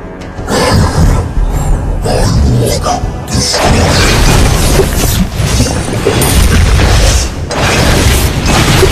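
A turret destroyed in the mobile game Mobile Legends: Bang Bang, heard as loud booming crashes and mechanical impacts amid dense battle effects, with game announcer voices over the action.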